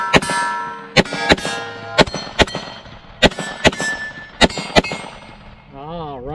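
Rifle shots ringing off steel targets, including IPSC and coyote-head plates, fired left to right in control pairs: about a dozen sharp loud cracks with bright metallic clangs, in quick doubles, on an outdoor range.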